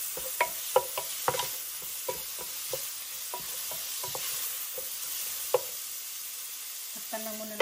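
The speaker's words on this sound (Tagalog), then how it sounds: "Kuilan natin ang shrimp hanggang tumula." Shrimp sizzling and being stirred in a pan while cooking for a Filipino misua soup with zucchini, a steady frying hiss broken by repeated clicks and scrapes of a utensil against the pan, close and fairly quiet.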